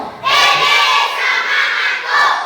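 A classroom of children shouts a loud group cheer in two bursts, the second shorter, the voices close and overlapping.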